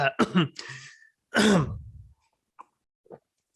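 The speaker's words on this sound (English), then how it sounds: "now I'm coughing" A person clears their throat and coughs a few times up close, followed by a couple of faint short sounds and quiet.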